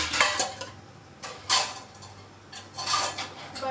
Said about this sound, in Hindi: बर्तनों को सेट कर